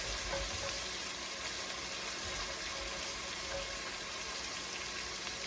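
Cornmeal polenta being stirred in a pot, a steady close hiss and soft bubbling texture with faint scraping, continuous throughout with no talk.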